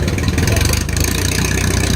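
An E-Type Jaguar engine rumbles past at a vintage car rally stop, a loud, steady mid-pitched drone held close over the full moment.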